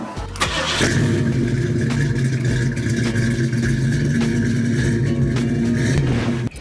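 A street rod car engine cranks and fires up, then settles into a loud, throaty, rumbling idle that holds steady until it cuts off.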